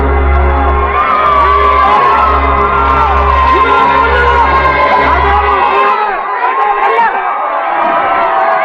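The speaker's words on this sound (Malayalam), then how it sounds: "പുറത്ത് കേൾക്കുന്നത് കാഴ്ച കിട്ടിയ ഒരു പുതിയ തലമുറയുടെ ആരവമാണ്." A huge crowd of people surging toward a palace roars and shouts continuously, loud and dense, with a deep rumble beneath that drops away near the end while the yelling carries on.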